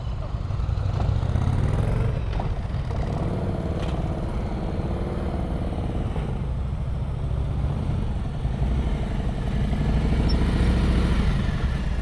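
A motorcycle during slow speed riding practice in Florida gives a continuous mid-pitched engine putter with small throttle changes, close by, with faint background clatter.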